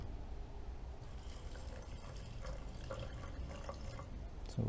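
Water poured into a rock tumbler barrel holding metal-detecting coin finds, a steady soft splashing and trickling with faint drips, moderately close and continuous, with no talking.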